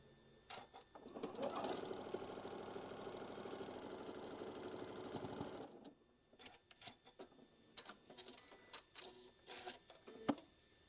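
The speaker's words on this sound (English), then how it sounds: "so we're just going to stitch this all the way down" A sewing machine runs in one steady burst for about five seconds, stitching straight down a quilt block, then stops, followed by small handling clicks and light rustling.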